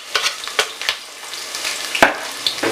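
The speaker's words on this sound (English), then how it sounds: "it gives me that beautiful sizzle that I love to hear" Hot oil sizzles and crackles in a pan as food goes in while a spicy Cameroonian black stew is being started, with sharp, irregular pops and spatters over a steady hiss, close and fairly loud.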